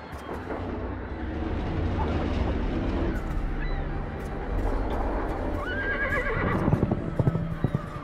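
A winged stallion in the game Argonus neighs and whinnies, hooves clip-clopping, then launches from a cliffside over the sea with heavy wingbeats and a final loud whinny, backed by ambient game sound and no talk.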